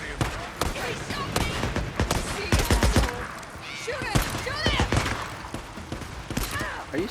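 Gunfire at a zombie horde in the video game Days Gone, repeated sharp shots in bursts mixed with screeching creatures and chaotic game noise, with someone shouting over it.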